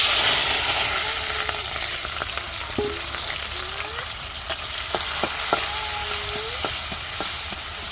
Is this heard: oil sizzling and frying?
yes